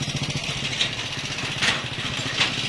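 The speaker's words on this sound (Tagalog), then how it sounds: "medyo maingay kasi may motor" A motorcycle engine drones nearby at a steady pitch, a continuous mid-range hum with faint repeated pulses, no talk over it.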